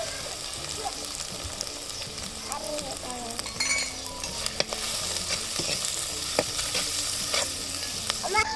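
Onions frying in a pot, a constant crackling sizzle with scraping and clinking as a spoon stirs them, close and continuous, no voices.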